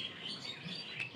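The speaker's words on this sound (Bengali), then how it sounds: "তোমরা তো শুনতেই পাচ্ছ সকাল সকাল পাখির ডাক।" Birds chirping and calling in the early morning, a soft continuous twittering with a few brighter tweets, fairly quiet and steady throughout with no voices.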